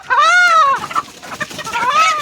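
Chickens and roosters on a poultry farm call out close by, with a loud drawn-out crow at the start, scattered clucking in the middle and another crow rising at the end.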